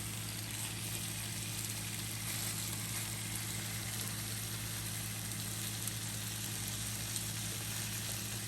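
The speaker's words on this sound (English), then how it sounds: "As you can see, the bacon is starting to cook." Bacon frying in a pan, a steady dense sizzle and crackle at moderate volume that continues evenly throughout with no voices.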